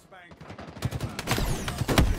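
Rapid gunfire in an online shooter video game, a dense burst of close, loud shots over a couple of seconds with a player talking.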